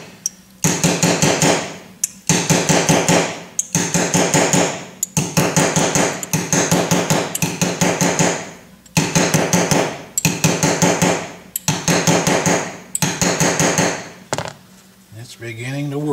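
A carriage bolt is struck repeatedly with a hammer to shrink a plug for a Lauson DeLaval Type VW engine, producing loud, sharp metallic blows in fast rhythmic bursts with brief pauses, worked on a piece of carpet.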